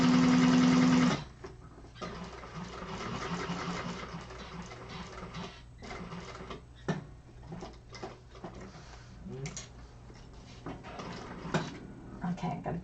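A sewing machine stitches a flap in a class setting, with a loud whirring burst at first and then quieter, intermittent stitching runs while a person talks over it.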